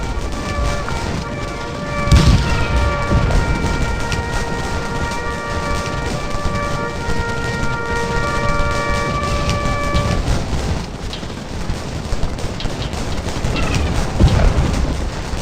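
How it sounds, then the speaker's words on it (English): Regiment rifle volleys in the Civil War strategy game Scourge of War: Gettysburg, a loud crackling fusillade with a heavy boom early on. Continuous distant musketry and battle rumble run underneath, with a sustained musical tone in the first two-thirds. "Opening fire upon them as they reform from a long advance into line"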